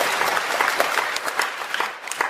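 Audience applause at a devotional discourse on Sri Venkateshwara and Srinivasa, a dense patter of many hands clapping at steady volume, fairly close, with no talk over it.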